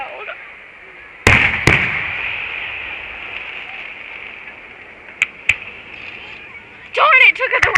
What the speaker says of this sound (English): God, I hate fireworks. They're so loud.